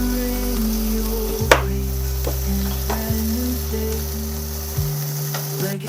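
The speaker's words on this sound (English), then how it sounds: "take the loneliest of meat, lather it around in the grease" A pork chop fries loudly in hot grease with a close, continuous sizzle, marked by a few sharp clacks and scrapes as it is moved around, all over a prominent low electrical hum.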